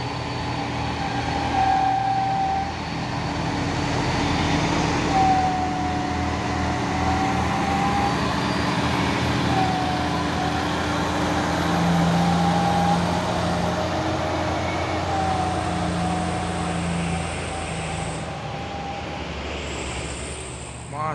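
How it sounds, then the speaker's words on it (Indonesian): A Fuso trailer truck rumbles by on a road with a deep, sustained diesel drone that swells and fades over twenty seconds, faint tonal whines and other traffic sounding around it. "Masuk lagi satu nih truk trailer Fuso super grid."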